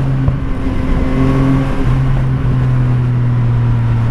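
A Yamaha MT-09 motorcycle exhaust rumbles loud and close, its steady engine drone holding a low pitch with slight shifts as the throttle is worked.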